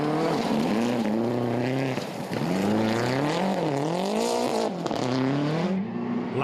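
A rally car tears through a forest stage at Rally Canterbury in the 2016 New Zealand Rally Championship, its engine loud and close, rising and falling in pitch through gear changes and throttle lifts.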